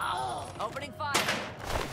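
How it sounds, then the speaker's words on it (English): Video game gunfire in a crime-themed strategy game: a burst of rapid shots fired under and between excited in-game character voices, with several quick cracks close together. "Opening fire!"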